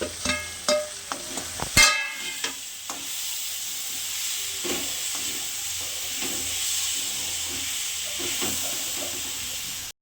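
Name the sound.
ghee sizzling as it is added to the pan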